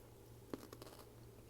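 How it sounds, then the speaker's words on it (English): A single quiet crunch as a pickled nasturtium caper is bitten, followed by a few soft chewing crackles against a low background hum. "Okay. Crunchy."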